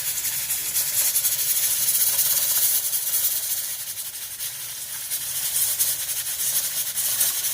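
Steady loud hiss of steam escaping from a pressure cooker cooking mutton nihari, broad and airy, continuing throughout with slight surges; close by, with no voices.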